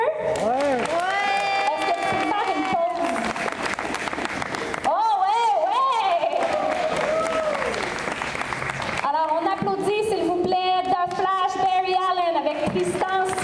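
At the Fantasticon 2017 costume masquerade, a crowd claps loudly for a child in costume, with whoops and cheering voices riding over sustained applause that swells in waves across the stretch.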